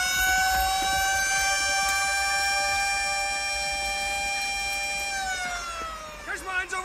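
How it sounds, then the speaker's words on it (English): A loud siren wails on a sustained tone, then winds down in pitch near the end as other noises break in. "Stop them with your siren, man!"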